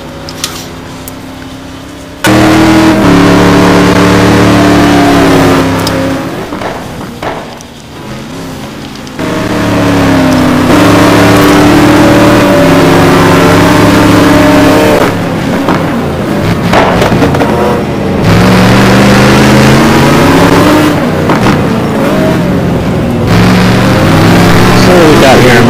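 A McLaren GT1 race car roars in a sim racing game at Silverstone, its loud engine note rising and falling through gear changes for the whole stretch while a commentator talks over it.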